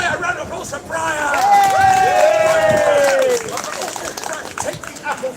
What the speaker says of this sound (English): Briar, round of applause for Briar!